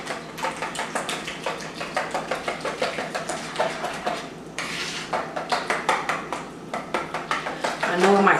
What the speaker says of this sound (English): I'm going to go ahead and mix these eggs up